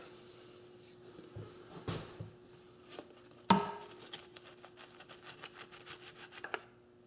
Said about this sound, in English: now I'll mix up some epoxy